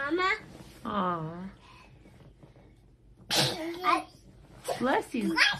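A small child sneezes once, sharp and close, in a home between stretches of babbling child speech and adults talking.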